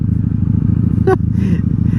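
Steady close engine drone of a 1997 Honda Magna VF750C motorcycle at highway speed, with a brief high tonal chirp midway and faint voice-like sounds after it over the continuous rumble.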